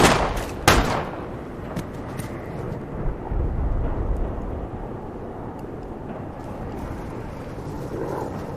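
A single loud gunshot bursts out near the start during a tense armed standoff, followed by a low rumbling reverberant tail and dim background noise, with no talking.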